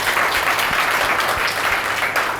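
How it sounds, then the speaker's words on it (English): Conference audience applauding an event organizer during concluding remarks, a steady dense clapping that fills the room, loud and close, with no voices over it. "just a big round of applause for her"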